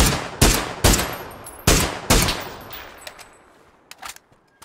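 Gunfire in a shooting video game: five sharp, loud shots at roughly half-second intervals, each followed by a short fading tail, then a few fainter, quicker cracks near the end.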